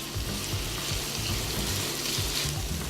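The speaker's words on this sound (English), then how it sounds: "make sure that your onions and your celery are browning" Onions and celery brown in a pan as a base for red beans and rice, giving a dense, steady broadband sizzle with faint low clatter underneath and no talk.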